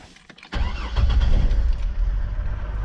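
A 2004 Chevy Trailblazer engine cranks briefly and catches, settling into a steady close rumble for a few seconds.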